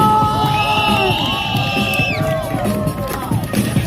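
A street crowd at a Times Square performance in New York cheers and whoops loudly and steadily, with shouts and whistles rising over dense close chatter throughout.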